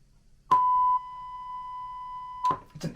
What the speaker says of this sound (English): Ooh, very low tones.